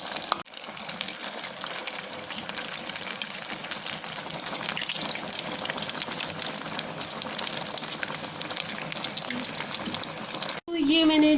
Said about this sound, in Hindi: तो ये मैंने डाल दिए हैं फ्राई होने के लिए